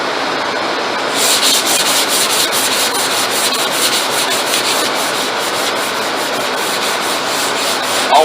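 Close, loud hand sanding with 320-grit paper, a brisk back-and-forth rasp, the strokes pulsing in a quick regular rhythm.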